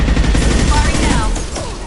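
Rapid bursts of gunfire in Mass Effect 2, loud and close, a dense run of shots over about two seconds.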